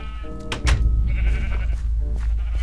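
Minecraft sheep bleating in a game world, a few short nasal bleats close by with a low background hum between them.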